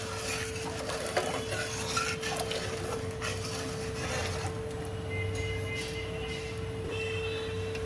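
A spoon stirring jaggery into hot milk in a pot for nolen gur payesh, soft scraping and clinking strokes against the pan over a steady low hum.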